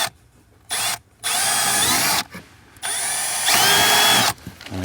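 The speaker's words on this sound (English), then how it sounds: "drilling 1/8 inch holes where I marked it." A power drill bores 1/8 inch holes into a BMW 1M car interior in four loud, close bursts of high whine, each ending abruptly with short quiet gaps between.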